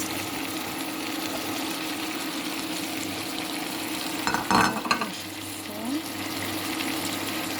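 Potatoes tipped into a pan with sweet peppers for a Kazakh dish, a steady sizzle with a brief loud clatter and scrape of stirring near the middle, then a low hum under the frying.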